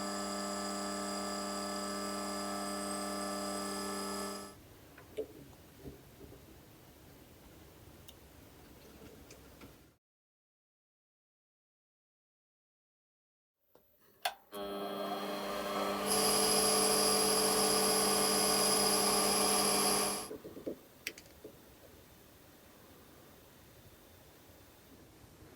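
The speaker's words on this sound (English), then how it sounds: "Next, I bore the pulley seats." A metal lathe bores pulley seats with a loud, steady, tonal whine up close. The whine cuts out to a few seconds of silence, then returns, swelling brighter and louder before easing off.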